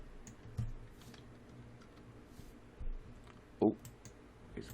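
A few sparse computer mouse clicks at a desk, quiet and close, spaced irregularly with one sharper click standing out, with no talk over them.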